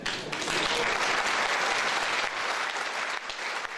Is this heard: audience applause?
yes